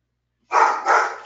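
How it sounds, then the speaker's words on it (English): A dog gives two quick, loud, close barks back to back, breaking out of near silence, with no one speaking. "The dog barking."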